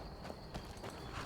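Horse hooves clip-clop in Skyrim, a steady walking gait of several close, fairly faint hoofbeats over a soft game background, with no talk.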